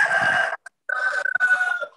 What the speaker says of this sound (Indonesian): Ayam kamu ya yang bunyi?